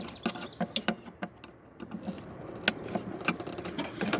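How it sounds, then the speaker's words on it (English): Screws are loosened on the entrance plate of a purple martin house, making close, quiet metallic clicks and small rattling taps in an irregular sequence. "you loosen the screws."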